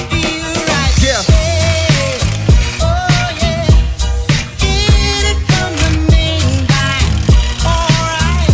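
A ratchet undoes bolts on a cracked car exhaust, with loud, rapid clicking strokes repeating throughout, close up, mixed with metallic rattles.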